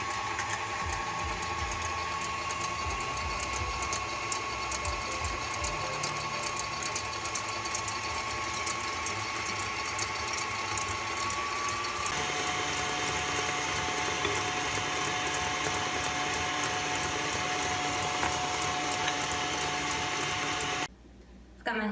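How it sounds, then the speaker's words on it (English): Electric whisk beating eggs as sugar is slowly added for pecan pie filling, a continuous whirring mechanical drone with rapid ticking and rattling that persists for about twenty seconds before briefly stopping near the end. "I'm going to turn my whisk back on and start slowly adding the sugar into my"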